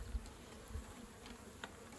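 Feral honey bees in a swarm trap hive, a soft continuous buzzing drone, faint and steady with a few slightly louder passes, no voices.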